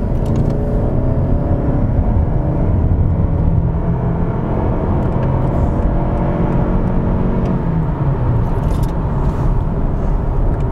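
A Toyota Camry in eco mode accelerates at full throttle from about 30, giving a loud, steady engine drone and road roar heard from inside the car, with no talking.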